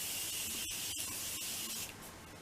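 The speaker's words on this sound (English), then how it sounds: "And this is the Morphe Mini Continuous Spray." Morphe Mini Continuous Spray setting spray releases a long, steady close-up hiss of fine mist lasting over two seconds, with a few brief breaks in the stream before it eases off.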